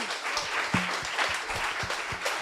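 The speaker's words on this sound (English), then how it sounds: "you should give a big round of applause to Avery" A big round of applause for Avery after a panel discussion, with dense clapping from an audience and a few louder individual claps standing out near the front.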